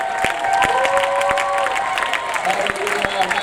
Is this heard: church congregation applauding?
yes